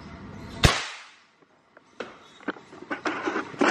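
A rifle fires at a target about 15 metres away, one sharp loud crack followed by a short decay and quiet, then scattered light clicks and handling knocks.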